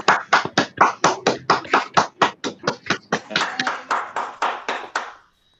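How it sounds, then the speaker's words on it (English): A small online audience claps for a speaker after a talk, a few unmuted participants producing a quick series of distinct, close hand claps that start crisp and blur together before stopping abruptly. "We can unmute and just clap for him."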